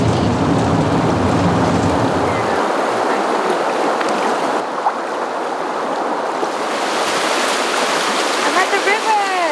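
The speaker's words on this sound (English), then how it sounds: "I'm at the river!" A river flows with a dense, broadband rushing roar, loud and close throughout, the water's wash steady across the whole stretch with a few brief higher trickles near the end.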